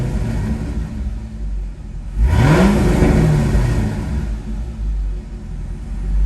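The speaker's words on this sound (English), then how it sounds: "Rev's good, the recovery is good. Doesn't bounce too much at idle." A GM LS V8 fitted with an MSD Street Fire coil-on-plug kit idles loudly, then revs up once and settles back to a steady rumbling idle, close and with no talk.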